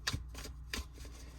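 Tarot cards being shuffled by hand, a few quick riffling bursts in close succession, near and fairly quiet with no talking.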